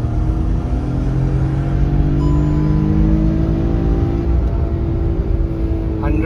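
Engine of a Hyundai Venue turbo car revving, a steady loud rumbling drone with rising harmonic tones, heard alone and close throughout.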